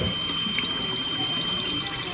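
Warm water runs steadily from a tap for washing an animal, a continuous, close hiss and gurgle that stays even throughout with no voices.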